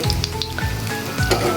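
Homemade chicken nuggets fry in hot oil, giving a steady, close sizzle with a few crackling pops.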